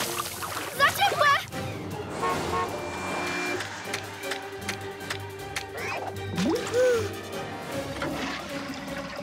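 Cartoon water gushing and sloshing into a container in an animated superhero scene, a rushing wash of liquid mixed with excited voices talking over it.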